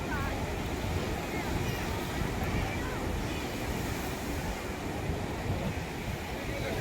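Boat ride on the sea at Kanniyakumari, a steady broadband roar of engine, rushing water and wind buffeting the microphone, continuous and loud throughout with no break.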